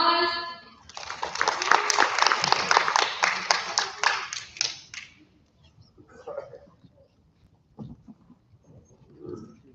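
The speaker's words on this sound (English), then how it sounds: "Let's yet again give these kids a round of applause." An audience at a community event claps for a group of children, a dense burst of applause for about four seconds that breaks off abruptly, followed by scattered faint noises.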